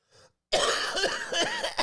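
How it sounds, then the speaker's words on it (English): A brief faint breath, then a burst of harsh, close coughing with several rapid hacks, like a throat being cleared forcefully. "I'm sorry, everybody. I'm coughing."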